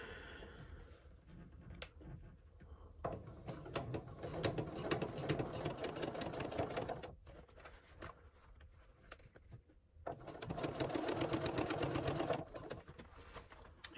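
Sewing machine stitching an oven mitt, running in two long bursts of rapid, steady needle stitching separated by short pauses, close and moderately loud with no talking.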